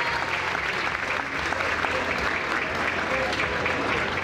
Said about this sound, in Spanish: un fuerte aplauso para los estudiantes de sexto grado